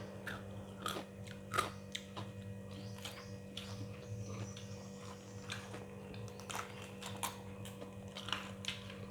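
Someone chews crispy batter-fried mango salad with fried garlic, making soft close crunching bites repeated at an irregular pace over a low background hum, with no talking.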